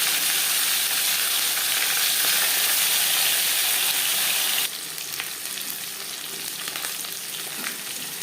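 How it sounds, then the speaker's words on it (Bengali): Marinated khoira fish sizzles loudly in four spoons of hot mustard oil, a dense, steady crackling hiss that drops abruptly to a quieter, gentler spitting fry partway through, close up and without talk. "4 চামচ সরষের তেল গরম করে নিয়েছি। দিয়ে দেব ম্যারিনেট করে রাখা মাছ।"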